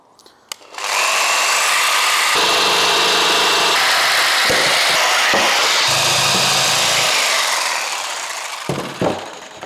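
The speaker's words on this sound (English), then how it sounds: "what I do have is a jigsaw, and I have to be a little careful with this because it tends to tear up the plywood" A jigsaw cuts plywood for a sailboat build, starting with a click and then a loud sustained buzzing whine that shifts in pitch as the blade moves through the sheet before winding down near the end.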